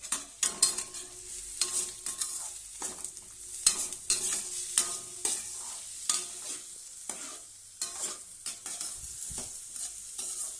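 Vegetables fry in a pan while a spatula stirs and scrapes in a fast, irregular rhythm of sharp clatters over a low continuous sizzle, close up and without voices.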